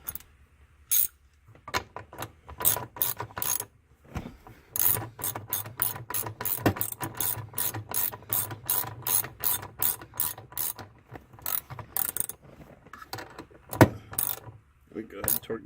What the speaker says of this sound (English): We go ahead and torque these two back together.